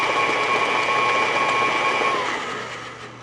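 Electric mixer blending oatmeal cookie ingredients, a close, steady whirring motor hum that fades slightly toward the end.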